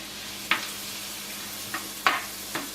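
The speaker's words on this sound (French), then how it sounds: "vous ajoutez vos oignons émincés que vous allez faire revenir" Sliced onions sautéing in melted butter in a pan, a soft steady sizzle broken by a few brief stirring scrapes and clicks, with no voices.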